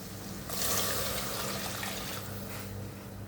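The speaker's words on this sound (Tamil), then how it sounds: "இப்போ 1 கிளாஸ் அரிசிக்கு 2 கிளாஸ் தண்ணி ஊற்றிக்கலாம்." Water pours steadily into a pot of rice for tomato rice, a broadband rushing splash that swells early and continues for a few seconds before easing slightly.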